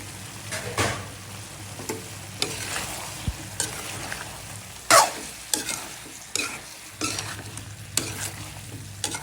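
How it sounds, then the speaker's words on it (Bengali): Dried loitta fish and mixed vegetables sautéed together in a pan: a constant low sizzle punctuated by repeated scraping strokes of the spatula, some sharp and metallic. "দিয়ে দিলাম একসাথেই কষে নেব"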